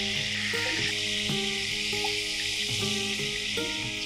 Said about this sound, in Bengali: চিকেনগুলো হালকা ভেজে আমি বাটিতে তুলে নিলাম।